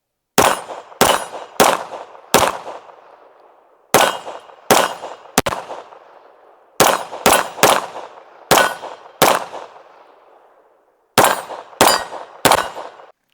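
A Ranger Arms RA 9 pistol fires CCI Blazer ammunition at a steel plate: about fifteen sharp, loud reports, each with a ringing metallic clang that fades, in small groups separated by short pauses.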